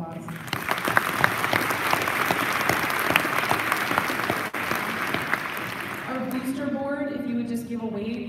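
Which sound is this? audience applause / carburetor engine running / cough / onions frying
audience applause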